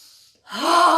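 Deep inhalation for a breathing exercise, starting after a short quiet pause and swelling into a long, steady, airy intake of breath that fills the second half of the moment.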